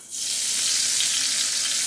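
Eggplant slices in batter fry in hot oil in a frying pan, a loud, steady sizzle that swells in quickly after a brief quieter start and holds continuously without a break.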